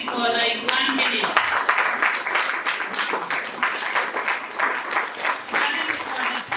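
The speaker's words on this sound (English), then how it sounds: "Mama style, you keep on clapping for like 1 minute." Audience at a World Cerebral Palsy Day celebration in Kisumu clapping steadily and loudly for the parents of children with cerebral palsy, a dense continuous wash of many hands with voices shouting over it.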